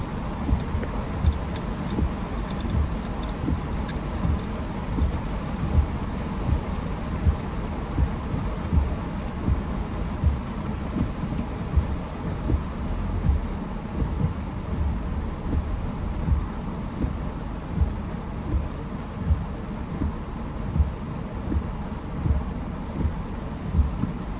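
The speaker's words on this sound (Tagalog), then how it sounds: "Sobrang lakas po ng ulan." Heavy rain pours in a thunderstorm, heard as a loud continuous roar full of low rumbling gusts and buffeting, like wind and thunder. It goes on without a break throughout.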